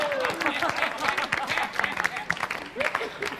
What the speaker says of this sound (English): let's have a round of applause for the weatherman